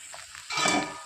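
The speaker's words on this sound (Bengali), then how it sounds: "ভালো করে মশলা তো কষিয়ে নিয়েছি" Spice masala for a yogurt-based katla fish curry sizzles and hisses in a hot pan as it is sautéed, with a brief, loud burst of frying.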